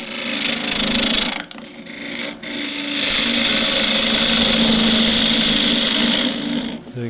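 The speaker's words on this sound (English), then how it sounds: "Now I can come across and take a shear cut." A gouge takes a shear cut across a cross-grain wooden box turning on a lathe: a continuous close hissing, tearing cut with two short breaks, then one long steady pass that fades at the end.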